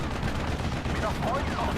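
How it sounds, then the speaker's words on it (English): Dense, continuous battle gunfire from tanks in the Steel Division strategy game, a loud rumbling wash of overlapping shots and bursts that fills the whole stretch with steady intensity and no clear pauses. "Bit of gunfire in, taking out their guns."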